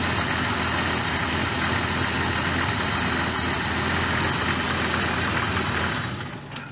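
Jeep engine idling during electrical troubleshooting of the alternator, a steady loud rumble with constant vibration that fades and cuts out as the engine dies at the very end, with no voices.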